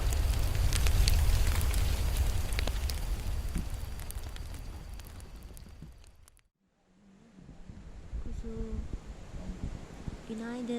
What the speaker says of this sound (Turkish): güzel büyük bir ateş yaktı